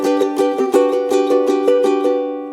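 A concert ukulele in gCEA tuning strums the chords of a TV theme in a quick, even pattern of bright down-up strokes, close and alone, ending on a ringing chord.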